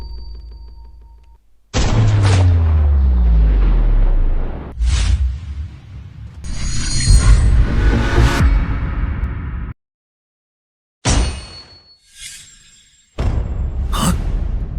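A sniper rifle fires in a dramatic action scene: heavy booming blasts with long, rumbling tails, broken by sharp pauses and bursts of cinematic impact and whoosh effects.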